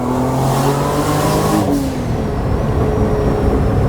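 A fully built turbo Honda NSX engine revs hard toward redline, a loud, close, rising drone that peaks and then settles into a rough, steady roar.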